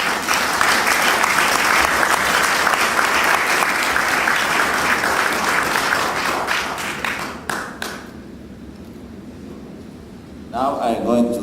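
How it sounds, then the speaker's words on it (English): A panel meeting's audience applauds its guests with sustained loud clapping that thins out and fades near the end, followed by a brief burst of sound. "I will call for an applause for our guests"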